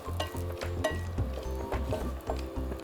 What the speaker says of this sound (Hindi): जो काजू हैं उनको बिल्कुल धीमी आंच के ऊपर आप फ्राई करें